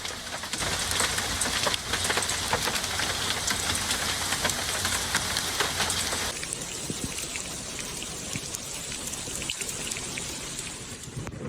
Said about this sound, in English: The bad weather was accompanied by hail and heavy rain and winds in places.